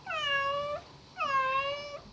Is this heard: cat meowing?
yes